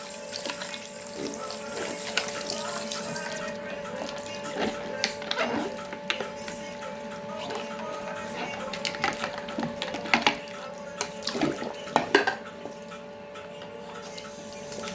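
Hot tap water runs steadily while makeup brushes are rinsed under it, a continuous close splashing stream with brief knocks and handling clatter scattered throughout.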